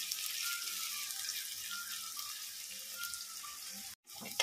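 Medium-sized potato pieces sizzling in hot oil in a pan, a steady bright crackle, close and fairly loud, that cuts off briefly near the end.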